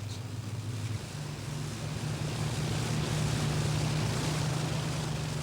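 Engines of a 29-ton bomber aircraft start up. A broad, steady roar is joined about a second in by a deeper droning hum that grows fuller and holds.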